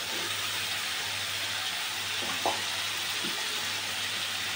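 Fried prawns hiss and sizzle as they go into a spice masala with oil risen on top in a pan, a steady loud frying noise throughout with a couple of faint clinks.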